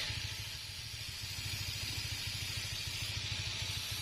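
A scooter motor idles steadily with a fast, even low pulse while a grinder hisses broadly over it during thread repair, close and continuous with no talk.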